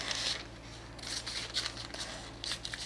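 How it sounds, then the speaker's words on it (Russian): Scissors snip through dress fabric while a dart is cut out. Several quick, crisp cuts come in separate bursts, with soft pauses between them, close and fairly quiet. "Вот так вот я выточку вырезаю."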